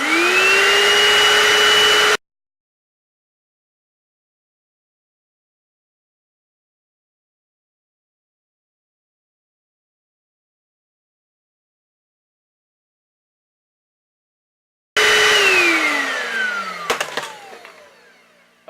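A small carpet cleaner runs loud and steady on a fursuit for about two seconds. Long silence follows, then the motor starts up again and whines down toward the end.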